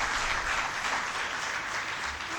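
Steady round of audience applause in a conference hall, dense and continuous clapping at moderate volume with no pauses, heard alone.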